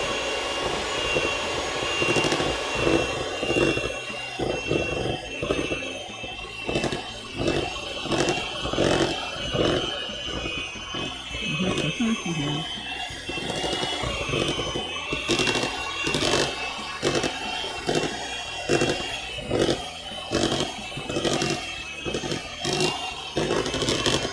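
An electric mixer beating cake batter in a home kitchen, a continuous whirring motor drone with rhythmic pulsing scrapes against the bowl, steady and close for the whole stretch.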